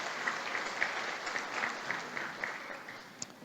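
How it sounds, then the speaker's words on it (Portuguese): A church congregation applauding together during a Christmas service, a steady, fairly soft wash of hand claps with a few sharper individual claps standing out, tapering slightly near the end. "Você pode aplaudir agora ao Senhor pela vida deles."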